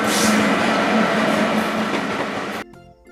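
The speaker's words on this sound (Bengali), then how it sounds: "রেলগাড়ি" A fast-running train rumbles and clatters loud and close in a continuous roar, then abruptly drops away to near quiet near the end.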